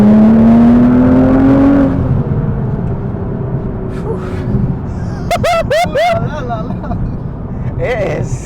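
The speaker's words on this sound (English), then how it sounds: "let's test out the acceleration for a second" A Nissan R35 GT-R pulls hard under acceleration, its engine note rising smoothly and loudly from inside the cabin before easing off into a lower rumble as people speak over it.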